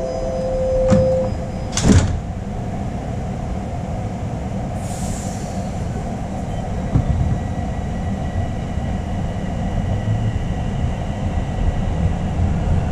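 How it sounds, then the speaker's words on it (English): A Toronto TTC Line 1 subway train at a station with a chime and sliding doors thudding shut, then a steady low rumble as the train pulls away and gathers speed. "Please stand clear of the doors."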